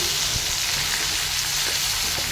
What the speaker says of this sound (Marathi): थोडंसं तीळ टाकून घ्यायचं चांगलं तडतडून घ्यायचं